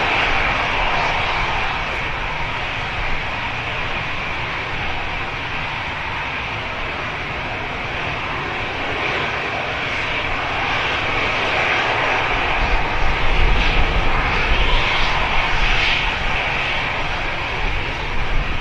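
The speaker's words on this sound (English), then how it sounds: "Heading off to Rhodes. The Airbus A320 with EasyJet." EasyJet Airbus A320 jet engines roar steadily and loud throughout, a broad continuous rushing drone that swells slightly toward the end, with no voices.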